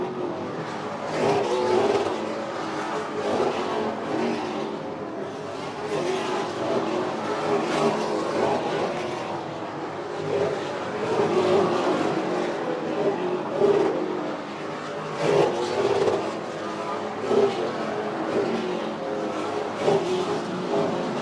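Super late model race cars roar around an oval during a 150-lap series race, engines droning and swelling continuously as the pack passes, with a steady, loud crowd-and-track wash.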